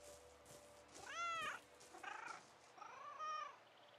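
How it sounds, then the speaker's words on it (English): A cat in a post-apocalyptic Australian outback tactical RPG meows three times, with clear rising and falling calls spaced across a quiet game backdrop. "Oh yeah, it is a cat."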